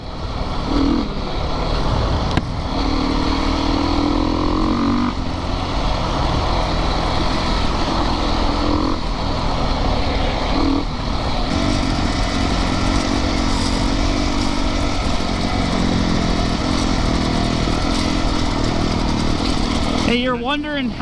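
A Yamaha YZ450FX or Beta 350RRS dirt bike engine drones loudly and continuously while being ridden near a creek. Revs rise and fall in surges over a constant buzz, and a brief voice comes in at the end.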